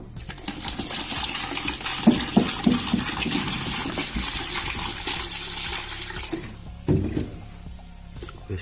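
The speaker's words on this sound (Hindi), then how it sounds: "जी दोस्तों, अब मैं इसके अंदर पानी ऐड करने लगा हूँ।" Water pours steadily into a can for mixing wallpaper glue, a continuous splashing, gurgling stream close by that tapers off near the end with a few knocks and clatters.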